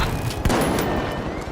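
Rapid bursts of gunfire from the online shooter game The Finals, a sharp loud shot standing out near the middle amid continuous game action, with no talking.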